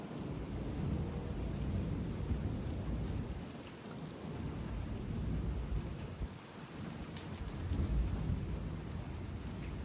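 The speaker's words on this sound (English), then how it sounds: "This is the best part of a non-tornadic thunderstorm" Rumbling thunder rolls through a steady downpour during a severe spring thunderstorm in the northeastern USA, with low booms rising and fading over continuous rain hiss and no voices.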